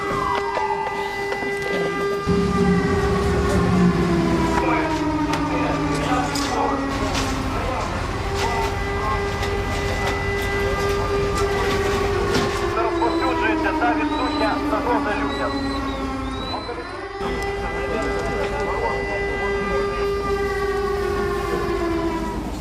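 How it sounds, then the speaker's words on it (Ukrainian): A civil defense alarm siren sounds in a city during an emergency drill, its loud wailing tone rising and falling continuously over a steady background hum. "Об 11-й годині у місті пролунав сигнал тривога."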